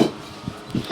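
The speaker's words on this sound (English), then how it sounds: "there's dogs" Dogs bark in a couple of short, muffled bursts, fairly near, with no talking over them.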